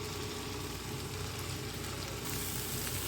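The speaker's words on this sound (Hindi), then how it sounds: "अब मैं इसमें दोनों ही सब्ज़ियाँ डाल दूँगी और इसको एटलीस्ट 5 मिनट्स तक 5 मिनट तक मैं इसको फ्राई करूँगी" Potato and cabbage frying in mustard oil over a high flame: a steady, close, loud sizzle that holds without a break and has no voices over it.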